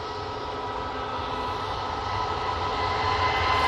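An Airbus A321neo jet departing for Antalya from Manchester Airport, a steady broadband engine roar that holds throughout and slowly swells louder, with no voices.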